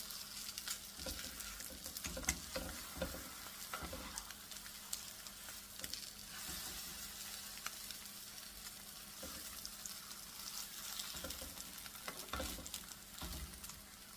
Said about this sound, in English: The butter is browning over here